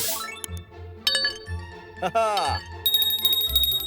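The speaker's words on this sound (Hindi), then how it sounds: "वाह, घंटी तो बन गई है।" A bell made from a broken cup glued back together rings in a cartoon comedy with bright, chiming metallic tones. It is heard in short bursts amid busy cartoon sound effects and chatter.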